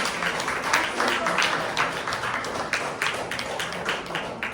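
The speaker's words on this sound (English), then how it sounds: "Please give a round of applause to Stephanie." A room full of people applauds at a business seminar on B2B and real estate marketing, giving dense, steady clapping that holds at an even level throughout, with no talk over it.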